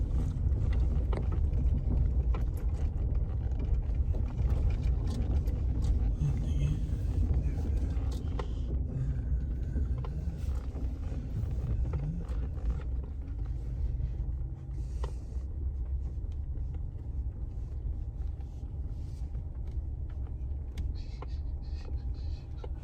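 A van drives onto a farm with a steady, low rumble of engine and road noise heard from inside, continuous and fairly loud throughout.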